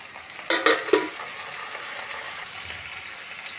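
Potato pieces tumble into a hot pan of frying bean seeds with three quick scraping clatters, then a steady, close hiss of sizzling oil continues alone.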